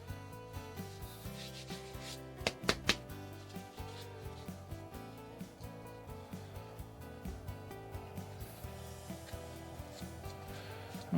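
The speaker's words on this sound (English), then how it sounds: "And then I clean up the surface by giving it a quick rub on some rough 40 grit sandpaper, just so it is nice and flat and grippy." Rough 40 grit sandpaper scraped with a workpiece rubbed across it in a steady back-and-forth rhythm, a continuous close gritty rasp with a few sharper scrapes early on and no talking.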